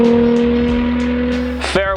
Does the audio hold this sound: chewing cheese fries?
no